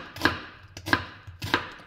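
Three crisp knife chops cut onion into small cubes on a board, evenly spaced and close, each a sharp thud with a short tail, with no talking.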